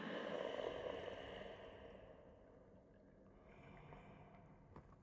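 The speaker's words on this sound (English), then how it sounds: "What's breathing like that?" Heavy, slow breathing from a creature in the survival video game The Forest, a faint rasping rush that swells early and then fades to a quieter steady hiss, heard alone with no talk.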